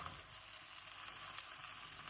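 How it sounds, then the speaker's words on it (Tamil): Beef frying on a hot griddle on top of a mixture of egg and roti, giving a steady, close hiss and sizzle that holds at an even level with no talking. "இப்போ அதுக்கு மேலே கொஞ்சம் வதங்கிறதுக்கு இவன் மாட்டிறைச்சி போடப்படுது"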